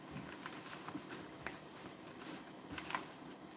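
Cards are shuffled in soft, irregular bursts of riffling and patter during a tea leaf and card reading, close and quiet with no talking.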